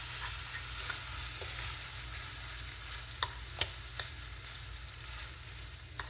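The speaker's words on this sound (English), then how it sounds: "So now I done pretty much got through with sauteing my onions and my sausage." Onions and sausage sautéing in a pan give a steady soft sizzle and crackle at close range, with a few sharp utensil clicks against the pan near the middle; no one speaks.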